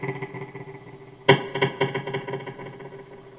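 A clean electric guitar runs through a Strymon DIG and an EHX Memory Man delay: one plucked chord rings out, followed by a string of quieter, evenly spaced echoes that fade away.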